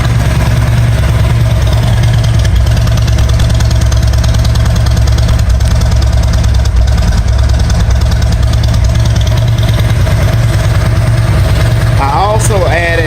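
A 2017 Harley-Davidson Road Glide with a Rinehart 4-inch exhaust idles loud and close, a deep steady lumpy throb, with someone speaking over it and a brief whine near the end.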